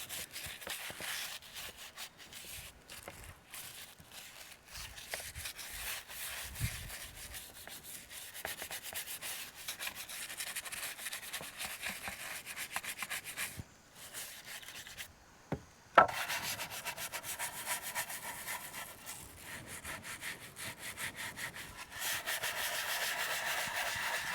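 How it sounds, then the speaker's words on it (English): Steady rubbing and scrubbing strokes work over the surface of a retro computer during cleanup, a quiet, gritty friction sound that keeps going with brief pauses and a sharp knock partway through. "I'm not scrubbing it very hard."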